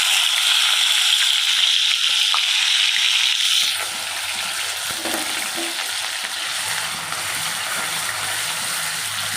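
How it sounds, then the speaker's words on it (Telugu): Chopped onions tossed into a hot pan of oil for pongal, a loud steady sizzle whose tone shifts as they land, then a constant close frying crackle. "ఇప్పుడు ఉల్లిపాయలు వేసేద్దాం."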